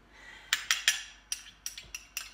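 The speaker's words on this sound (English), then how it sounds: "let me just grab a spoon here" A metal spoon clinks against a pot during snowball making with cocoa powder, a quiet series of about eight sharp, separate clinks in uneven clusters against a near-silent background.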